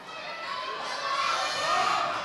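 A crowd at a wrestling match between Redwing and JC Slater shouts and cheers in a continuous roar that swells gradually, heard from within the arena with no clear talk over it.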